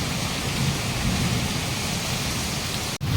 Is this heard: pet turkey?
no